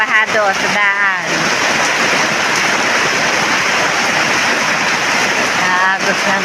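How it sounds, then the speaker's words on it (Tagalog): Water flows and rushes in a continuous broadband wash. A person talks over the opening second before the steady flow carries on alone. "Aagos ng tubig."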